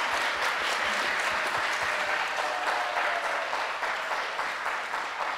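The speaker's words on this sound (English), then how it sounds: "So give you a round of applause" Steady applause from an audience at a community meeting, a dense even wash of many hands clapping throughout, moderately loud with no talk over it.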